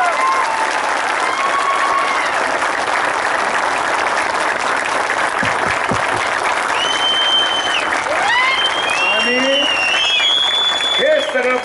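A crowd at a BJP campaign rally in Malkapur claps loudly and continuously, with scattered whistles and shouts rising over the sustained applause.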